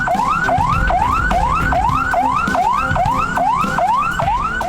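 A loud, close ambulance siren on a street in Klaten, Central Java, sweeping up and down in a fast repeating wail, about two cycles per second, with traffic rumble underneath and no voices.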